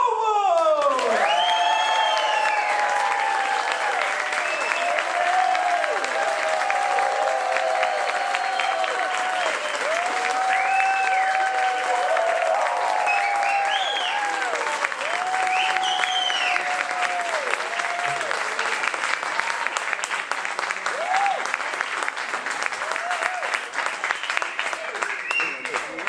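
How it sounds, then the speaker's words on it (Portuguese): A comedy show audience claps continuously and loudly for a comedian's entrance, the thick applause running the whole stretch with scattered cheers and a sung musical intro playing over it. "Muito obrigado pelas palmas"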